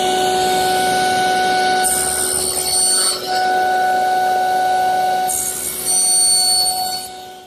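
A table saw cuts a wooden rail guided by a miter gauge set at 15 degrees, producing a loud, steady motor whine with the blade note dipping as it bites into the wood twice.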